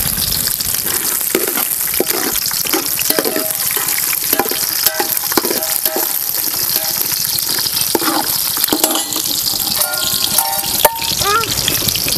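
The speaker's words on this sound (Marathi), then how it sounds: "तर आता आपण चांगलंच आहे ना तुपामध्ये आपल्याला हे परतून घ्यायचं आहे." Finely chopped cashews and almonds fry in ghee with a loud, steady sizzle while a spoon stirs and scrapes the pan, close up, with occasional light clinks.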